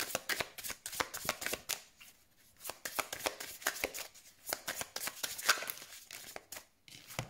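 Tarot cards shuffled by hand in quick riffling bursts of crisp, papery flicking, close and clear, with short pauses between rounds and no talking.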